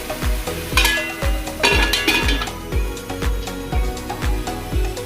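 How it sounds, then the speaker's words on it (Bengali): Onions fry in oil in a pan while a spatula stirs them, giving regular scraping and clinking strokes in a steady rhythm over a constant background sizzle, close and fairly loud, with no talking. "এবার একটু নাড়িয়ে দিচ্ছি পেঁয়াজ তেলে"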